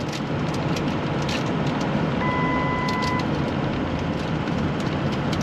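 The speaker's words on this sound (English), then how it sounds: "this beeping every 6 seconds gets really, really annoying" A single electronic warning tone beeps briefly, repeating every six seconds, over a steady background of road and engine rumble inside a moving 1964 Ford Galaxie 500XL.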